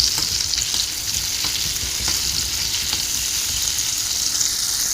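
Chilies sizzle and fry in a hot pan for a Rajasthani dish, with a steady bright hiss and faint scrapes of stirring running throughout, no voices present.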